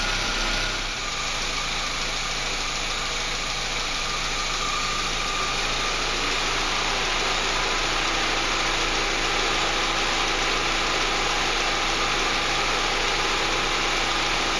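A Chevrolet Montana engine idles steadily in a workshop after a fuel pressure regulator replacement, a constant loud even hum with a cooling fan whirring, holding unchanged for the whole stretch with no voices.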